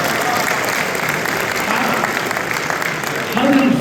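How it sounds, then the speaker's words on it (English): Steady crowd applause at a live evening event with a UFC lightweight champion in Chicago, a broad even roar of clapping with a voice rising over it near the end. "Give our producers a round of applause"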